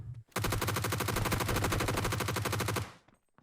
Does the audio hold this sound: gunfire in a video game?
yes